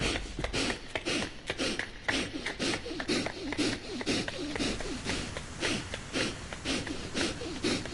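A character in The Last Door video game breathes heavily and raggedly in repeated wheezing, snorting pulls, close and rhythmic, continuing steadily with no talk over it.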